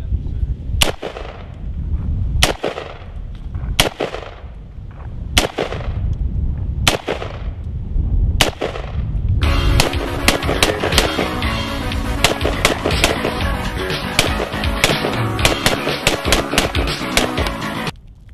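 Gunshots strike bullet resistant armor plate outdoors: a string of about seven loud, sharp reports at roughly one-second intervals, followed by a rapid volley of closely spaced shots echoing across the range.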